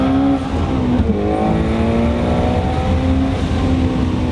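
An 850 hp twin-turbo Shelby GT350 running E85 accelerates hard, its engine howling up through the revs in a loud, close, continuous rising roar with a brief shift dip near the start.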